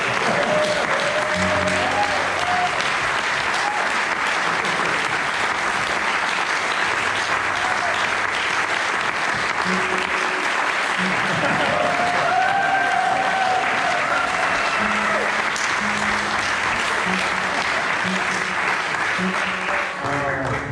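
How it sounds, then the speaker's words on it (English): Audience at a live international guitar festival gives Ben Southfield a long, sustained round of applause, steady dense clapping with scattered cheers and voices mixed in throughout. "we really should give Ben Southfield a huge round of applause"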